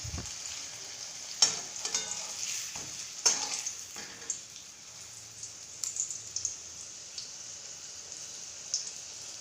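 Flour and potato snacks frying in hot oil in a pan give a steady, soft sizzle, with occasional sharp clatters from stirring or turning.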